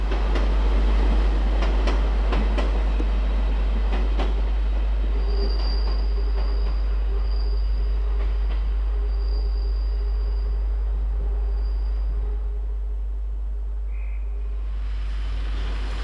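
A Class 158 passenger train rumbles past at steady loudness, wheels clattering and a faint high squeal running through, before the noise eases slightly at the end.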